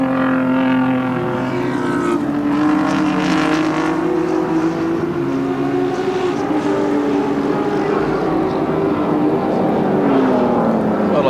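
A 1986 Volvo touring car races past the commentary point at Amaroo Park Raceway, its engine note loud and close, climbing and falling in pitch as it sweeps by, with other engines droning behind it.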